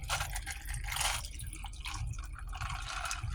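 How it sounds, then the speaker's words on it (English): Soda poured from a can over a glass partly filled with ice, a steady fizzing, splashing pour heard close up for a few seconds with no talk. "Crack this open, get it poured."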